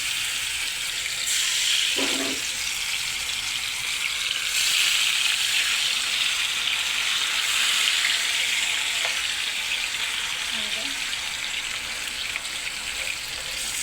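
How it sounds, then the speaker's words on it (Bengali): French fries deep-frying in a pan of oil, a dense, continuous loud bubbling sizzle that holds steady throughout with a few faint knocks. "এখন ফ্রেঞ্চ ফ্রাইগুলো ডুবা তেলে ছেড়ে দিব আস্তে আস্তে"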